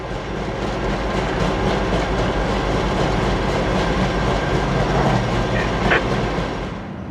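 A rail train working at Carnegie Siding near Jacksonville rumbles past on the track, a loud, steady roll with faint rhythmic clickety-clack of wheels throughout and a brief squeal near the end.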